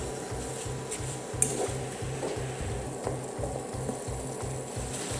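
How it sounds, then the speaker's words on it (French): A spoon stirs apples, brown sugar and a split vanilla pod in melted butter in a pan. Rhythmic scraping and rubbing strokes run under a soft sizzle, with an occasional clink against the pan. "Je mélange le tout."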